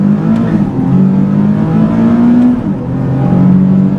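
A Nissan 370Z with a manual gearbox accelerates hard, its engine loud and close, climbing in pitch, then dipping briefly at a gear change before rising again.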